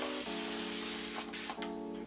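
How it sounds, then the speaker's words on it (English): A spray bottle of warm water misted onto low-porosity natural hair, two long steady hissing sprays with a brief pause between, close and loud with no talking. "I have my spray bottle with warm water"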